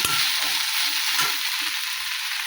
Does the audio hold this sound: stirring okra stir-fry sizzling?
yes